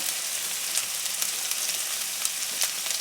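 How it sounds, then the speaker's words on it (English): Chopped onion, ginger and garlic frying in a pan for an Indian tofu korma, giving a steady close hiss with small crackles and pops, no talking. "We're gonna fry these until our onions are golden brown"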